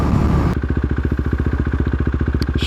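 A KTM RC390 single-cylinder motorcycle engine slows for a U-turn: a loud rush of wind and engine cuts off, leaving a close, rapid, even low-speed thumping pulse, about sixteen beats a second, that carries on to the end.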